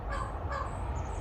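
A crow caws twice in quick succession, fairly close and loud, over a low outdoor rumble.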